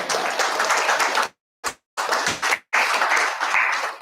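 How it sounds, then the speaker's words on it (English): An audience claps for Jessica in a room, a dense loud round of applause broken by abrupt silent gaps where the sound cuts out, then resumes. "everybody, a round of applause for Jessica"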